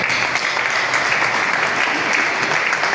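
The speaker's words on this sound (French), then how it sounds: "Oui, les applaudissements d'accord" Dense, steady applause from an audience at a book launch event in a hotel in Parakou, loud and continuous throughout without pause.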